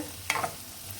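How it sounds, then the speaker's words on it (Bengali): Mango seed paste being stirred in a pan as oil begins to release, a brief soft scrape of the spoon over a faint low sizzle. "আমি এই যে এইভাবে অনবরত নাড়তে আছি, তেল ছাড়া শুরু করতেছে।"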